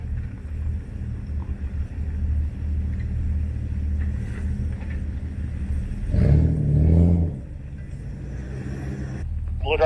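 An off-road Jeep on an overlanding trail rumbles at a steady low idle, then revs briefly and louder partway through, while a person talks nearby.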